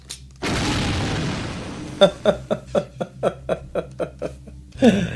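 A loud explosion blast in the stealth video game Thief Gold, a broad roaring burst lasting over a second, followed by a rapid series of about a dozen sharp rhythmic impacts and a final crash.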